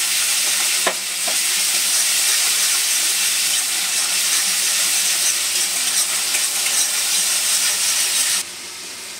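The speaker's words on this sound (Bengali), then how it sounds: "রসুন আর পেঁয়াজটা ভালো করে ভেজে নেবো।" Garlic and onion spice paste frying in hot oil, a loud continuous sizzle and hiss with a few stirring clinks, no talk, cutting off abruptly near the end.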